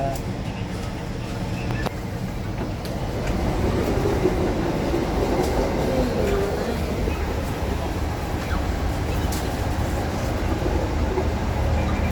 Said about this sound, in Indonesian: akhirnya kereta pun berangkat menuju Jakarta